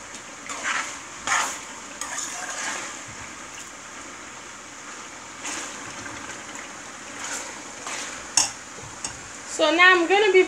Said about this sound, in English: So my fire is on high heat. I need all my tomato to cook all the way down.